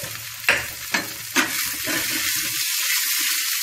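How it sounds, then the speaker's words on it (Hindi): An atta and matar snack fries in oil over a low flame until crisp, with a steady close sizzle broken by three sharp stirring scrapes early on. "अब इसे क्रिस्पी होने तक हल्की आग से सुनहरे होने तक फ्राई करेंगे।"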